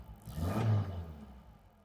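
A 1980s Bedford Bambi motorhome engine is revved once from inside the cabin, a short muffled rising and falling roar that fades over about two seconds.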